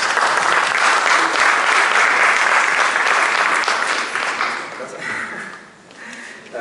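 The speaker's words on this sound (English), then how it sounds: "Please give him a huge applause." A conference audience applauds loudly as a speaker from the city of Vienna comes to the stage at a systems sciences panel session, dense sustained clapping that thins out and fades toward the end.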